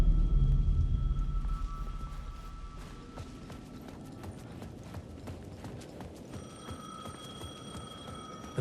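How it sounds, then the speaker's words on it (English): A payphone rings at the edge of a plaza in the video game Alan Wake 2, its repeated tonal bell sounding over a low rumbling ambience that fades after the opening seconds, with no talking. "The payphone at the edge of the plaza was ringing again."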